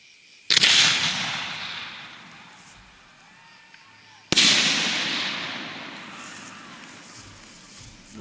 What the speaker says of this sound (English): there was the test shell